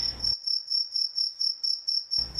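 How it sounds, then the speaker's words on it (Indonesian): Crickets chirp in steady, evenly spaced pulses, a loud and close insect trill that carries on alone with no voices. "ini suara jangkrik dari mana?"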